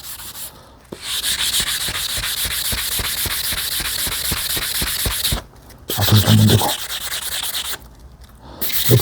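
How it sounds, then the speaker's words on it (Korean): Steady, vigorous sanding of a waxing iron with a sponge sandpaper, a continuous rapid scratchy rubbing that runs for several seconds with brief pauses. "이 스펀지 사포데요 요렇게 돼요. 요걸 막 문질 때 이렇게."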